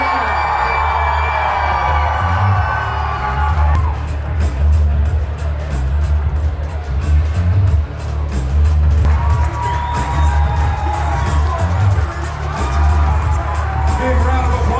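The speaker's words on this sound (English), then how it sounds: "Big round of applause, ladies and gentlemen." Bodybuilding pro show audience in San Diego breaks into cheers, whoops and applause after the winner is announced, loud crowd noise swelling in waves while an announcer talks over it.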